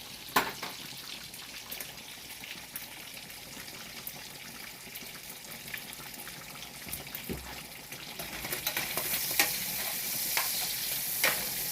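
Bacon for carbonara sizzles and crackles in a pan with scattered pops and stirring scrapes, the frying growing louder and brighter toward the end, with no speech.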